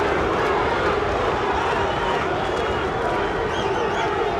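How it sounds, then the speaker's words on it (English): Spectators at a Ray Mercer versus Tommy Morrison boxing fight yell in a dense, continuous roar, loud and sustained throughout, with commentary voices mixed into the crowd. "Crowd yelling Duke."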